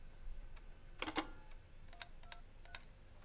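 Telephone dialing in the video game RoboCop Rogue City: a string of short, clear beeping tones in an irregular rhythm, each separate key press standing alone over a quiet background hum.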